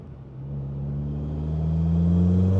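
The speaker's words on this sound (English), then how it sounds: "I really love the way that blow-off valve sounds" A Volkswagen Golf R engine with a blow-off valve revs up steadily, its rumbling pitch climbing as it accelerates close by.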